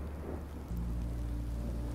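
Rain and thunder in the Minecraft: Story Mode game form a dense, steady wash of rainfall. A deeper rumble swells in partway through and holds to the end, with no voices.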